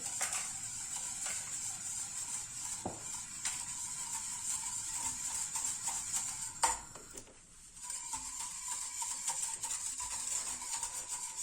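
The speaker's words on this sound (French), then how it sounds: "Je mélange le tout." A whisk or spoon steadily stirring a mixture of eggs, sugar and milk for a flan, a quiet continuous scraping swirl with a brief pause partway.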